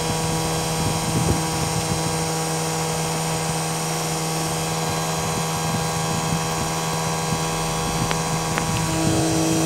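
A 775 non-bearing DC motor running at 18 volts, a constant high-pitched electric whine with a steady tonal hum, close and loud throughout, no speech.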